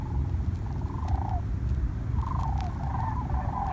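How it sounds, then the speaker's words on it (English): Cranes flying over give rolling, bugling calls in a few short bursts, faint and distant above a low rumble of wind on the ice, with no voices. "Some cranes flying over."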